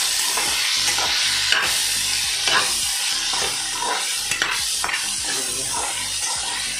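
Okra (bhindi) frying in a pan, without onion or garlic, hisses in a loud continuous sizzle while being stirred, with scattered scraping knocks from the spoon.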